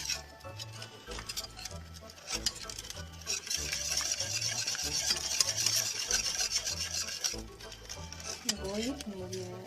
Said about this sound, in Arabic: نقلب كويس مع بعض.